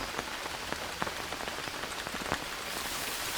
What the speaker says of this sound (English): The Banana sounds better, like when the rain hits the roof.